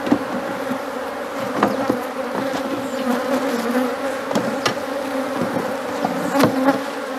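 Honeybees buzz continuously around an opened hive as a strong colony is split into a nucleus, frames of comb being moved; a dense, steady hum with occasional louder bees passing close, no voices.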